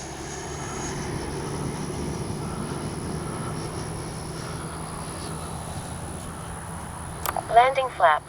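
An FMS Avanti S 90mm RC jet flies past with a steady, sustained ducted-fan whoosh that holds near-constant level, ending with a few short louder bursts at the close.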